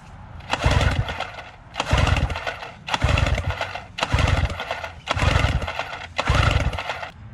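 A two-cylinder Yamaha outboard engine cranks over on the starter during a compression check after hard use, giving six even, loud bursts of whirring, chugging turnover separated by brief pauses, with no talking.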